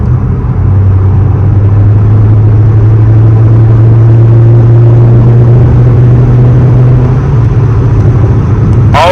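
A turbocharged car is under throttle, and the engine gives a loud, steady interior drone with a sustained low rumble and whir. The pitch rises slightly as it accelerates, with no voices over it.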